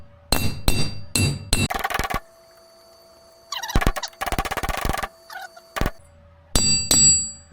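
Sharp metallic hammer strikes flatten freshly cut metal mirror-mount pieces for a 1976 BMW 2002, landing in quick bursts of several blows separated by short pauses, ringing brightly up close in an otherwise quiet room.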